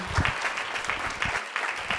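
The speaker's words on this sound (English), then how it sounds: "All right, give yourselves all a round of applause." Audience applause fills a commission meeting room, a steady wash of many hands clapping at moderate loudness with a brief dip near the end.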